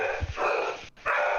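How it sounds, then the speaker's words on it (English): A dog barks in a couple of muffled, rough bursts, sounding indoors and close, with a brief gap between outbursts. "That's just my dog going nuts."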